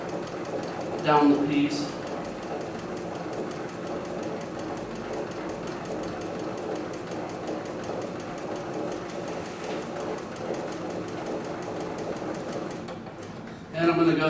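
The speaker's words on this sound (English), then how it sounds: "So I'm just going to start sewing here" An industrial sewing machine stitches leather at very low speed, giving a steady, even mechanical hum and rhythmic whir that runs continuously for over ten seconds, with someone speaking briefly at the start and a clack near the end.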